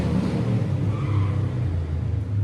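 A motorcycle passes outside a classroom, its engine rumble and rising whine loud and steady throughout with no talk over it.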